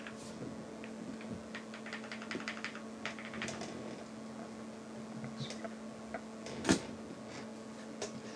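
Steady clacky keystrokes on a mechanical keyboard in a quick, uneven rhythm, close and moderately loud, with one sharper louder clack near the end; no voices.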